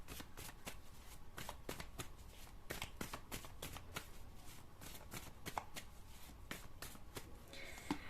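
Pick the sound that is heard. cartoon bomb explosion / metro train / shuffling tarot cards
shuffling tarot cards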